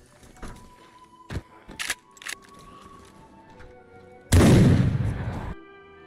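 A single loud gunshot from the survival video game DayZ bursts out near the end, ringing for about a second above faint background clicks and quiet game ambience.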